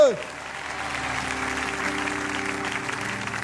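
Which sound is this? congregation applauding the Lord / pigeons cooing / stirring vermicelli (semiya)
congregation applauding the Lord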